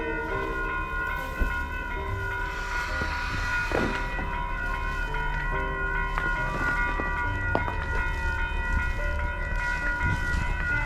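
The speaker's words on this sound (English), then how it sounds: "And ecco il treno." A train rumbles steadily past near Bear Mountain, New York, in winter, with a sustained rolling roar and metallic tonal whines from the rails, no voices.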